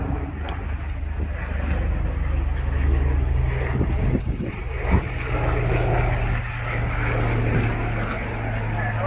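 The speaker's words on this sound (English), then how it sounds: "Helicopter." A helicopter passes overhead at a distance, a steady low rotor and engine drone with a faint whine on top, beside a Ford F250 6.0 diesel during rear brake work, with light tool clinks.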